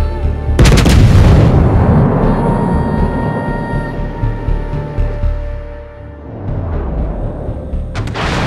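Warship main-battery gunfire in World of Warships aboard the Odin: a loud, booming salvo followed by a long rumbling decay, then another heavy blast right at the end.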